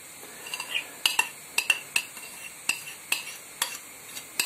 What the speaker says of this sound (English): I'll get my stirring stick, and I'll just give that a quick mix in.